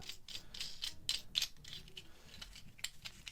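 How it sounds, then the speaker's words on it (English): Ratchet wrench tightening a nut onto a bolt through an aluminium extrusion bracket, giving a series of quick, fairly quiet clicking bursts in a steady rhythm. "Spin it down, and then use a ratchet to tighten up."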